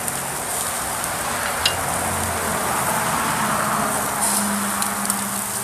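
Beef patty and bacon sizzle over a campfire, a steady broadband hiss with faint crackles throughout, fairly loud and continuous with no talk.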